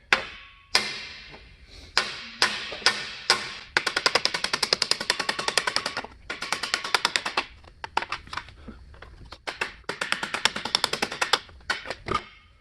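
Rapid metallic hammer strikes on aluminum sheet ring out in quick bursts and rolling sequences, some pausing briefly, each tap sharp and close with a bright clang, shaping a knee and shin armor piece.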